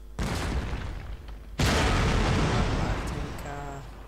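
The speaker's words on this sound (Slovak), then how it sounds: "A všetko do mňa strieľa." Heavy tank cannon blasts in World of Tanks, with an IS-6 heavy tank in the fight: two loud booming shots about a second and a half apart, each with a long rumbling decay.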